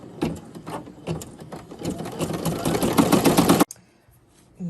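Embroidery machine stitching a design onto a flour sack towel, a steady close rapid mechanical chatter that grows louder before stopping abruptly, followed by near silence.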